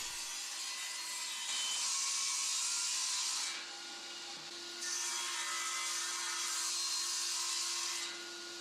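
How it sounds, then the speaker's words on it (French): Old oak banister pieces being sawn for table legs, heard as two long stretches of steady rasping saw strokes separated by a short pause, over a faint constant hum, with no speech. "Je dois juste faire quelques découpes stratégiques."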